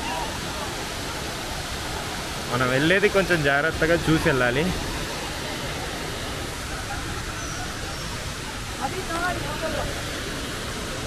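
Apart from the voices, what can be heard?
waterfall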